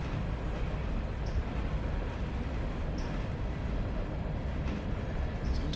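Railroader game train rolling down a grade, a steady dense rumble of wheels and cars with faint occasional clicks, constant and fairly loud throughout, no speech.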